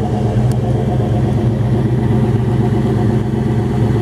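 A 1937 Ford Tudor Slant-Back resto-rod idles steadily nearby, a loud, even low rumble with a consistent pulsing rhythm throughout.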